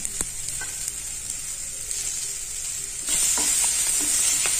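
Chicken for a dry-fry dish sizzling steadily in a pan, a dense continuous hiss that swells louder about two-thirds through, with a few faint clicks of stirring and no talking.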